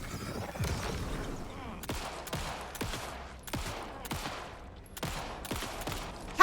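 Single gunshots in Alan Wake II ring out in a steady series, about eight sharp, loud reports spaced roughly half a second to a second apart over a low, dark ambience.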